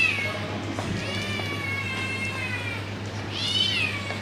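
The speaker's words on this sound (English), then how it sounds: "Come here, kitty, kitty." A hungry cat meows repeatedly at close range, with rising and falling wails, the loudest call near the end, over a steady low electrical hum and no talking.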